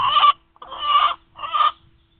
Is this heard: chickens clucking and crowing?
yes